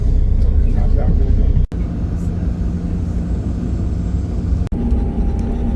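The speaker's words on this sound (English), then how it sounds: "We've got a really comfortable tour bus today" Inside a comfortable tour bus on a shore excursion in Trujillo, Peru, a steady low engine and road rumble fills the cabin, with a couple of sharp thumps and faint voices in the background.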